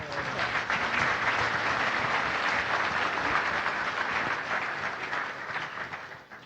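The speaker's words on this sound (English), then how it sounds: "Let's all give like a round of applause to Ted" Sustained applause from a conference audience at a Swift panel discussion, dense clapping at a steady level for several seconds before gradually tapering off, with some murmuring underneath.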